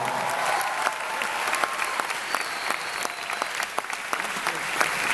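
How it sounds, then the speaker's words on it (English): Convention audience at a comic fan event applauding steadily for about five seconds, a dense wash of many hands clapping at even loudness with no talk over it. "Yeah, that deserves a round of applause."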